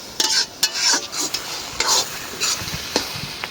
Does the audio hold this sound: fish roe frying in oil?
yes